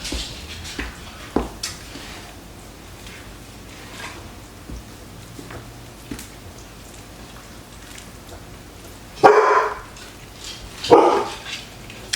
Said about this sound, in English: Not sure why the dog is barking, but might be somebody outside.